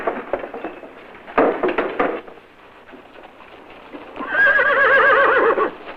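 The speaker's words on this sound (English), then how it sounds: "Drawn by matched gray horses, it will carry President Kennedy's flag-covered casket in final processions through the Capitol." Matched gray horses that draw a funeral caisson, heard as close hoof clops and stamping followed by a loud, wavering whinny, with no talk.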